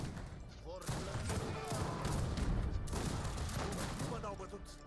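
Dense musket volleys from massed infantry in the strategy game Wars of Liberty, a sustained crackling fusillade with overlapping shots, joined by someone talking over the battle.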